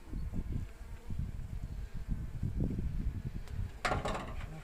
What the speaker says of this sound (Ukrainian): бджола літає сьогодні повним ходом